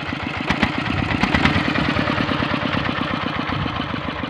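A Kubota RD85 diesel engine on a rice-field tractor runs steadily and loud, a dense rhythmic chugging that holds even throughout with a few sharper bursts early on as the throttle is opened, with no talk over it.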